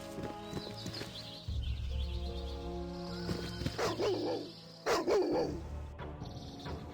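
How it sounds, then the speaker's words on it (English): Wild dogs barking and growling in the Baldur's Gate Enhanced Edition video game, several sharp barks in bursts over game background music and ambience, fairly close. "Wild dogs."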